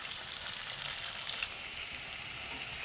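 Potatoes fry in hot oil in a black iron kadai with onions already added, giving a steady, close, bright sizzle that crackles without pause.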